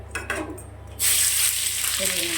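Chopped ginger, garlic, green chilli and cubed onion hit hot oil for chilli chicken, bursting into a loud, steady sizzle after a quiet second, with a soft clink near the end.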